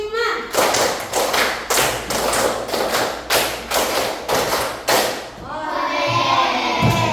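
A class claps in unison during an ice-breaker, a rhythmic run of about ten loud, sharp group claps in steady beats, followed by a voice speaking at the end.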